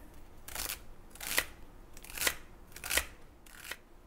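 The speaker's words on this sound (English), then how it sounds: "And now some beautiful celery, which I'm going to cut down this way." Fresh celery stalks sliced lengthwise with a knife, giving about five crisp, crunchy cuts in a steady rhythm, close and fairly loud with no talking.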